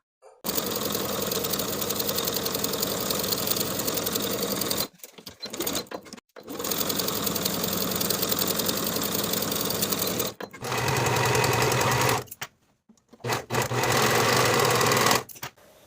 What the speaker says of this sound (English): Sew both shoulders and both side seams with a 3/8 inch seam allowance